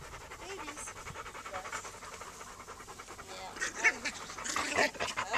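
Nursing puppies pant in quick, soft, breathy bursts close by, mixed with little squeaks and whines and occasional quiet talk, growing busier toward the end.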